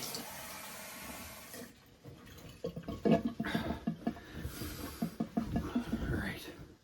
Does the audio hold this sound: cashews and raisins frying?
no